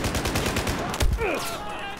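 Rapid gunfire crackles in a Battlefield 4 campaign battle on Kunlun Mountain, with a steady stream of sharp shots, a heavier blast near the middle and sweeping effects after it, all under a talking voice.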